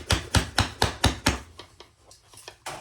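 A hammer pounds five times in a steady, loud rhythm, then several lighter, scattered taps follow, flattening pieces while making a caramel ostrich.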